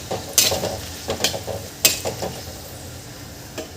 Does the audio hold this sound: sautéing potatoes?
yes